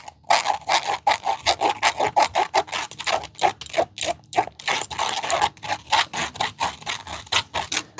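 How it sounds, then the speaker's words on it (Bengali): Ground tomato paste is pressed and scraped through a sieve strainer, giving rapid rhythmic rubbing and scraping strokes, close and fairly loud, repeating in quick bursts with brief pauses. "এবারে আমি যে টমেটোটা বেটে রেখেছিলাম সেটা একটু ছেঁকে নেব"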